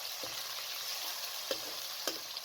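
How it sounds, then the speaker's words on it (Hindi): Chicken frying over a medium flame, a soft, steady sizzle with a few sharp clicks of stirring against the pan. "चिकन को आपने इतना फ्राई करना है कि इसका जो कलर है वो चेंज हो जाए"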